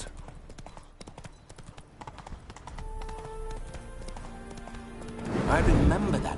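Horse hooves clop in a steady galloping rhythm beneath talking and soft music in the video game The Witcher 3, growing louder toward the end.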